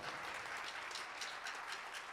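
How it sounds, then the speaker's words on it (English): Concert audience in a synagogue hall applauding a trumpet player, a steady dense wash of clapping sustained throughout at moderate distance with no voices over it. "Give him a big round of applause."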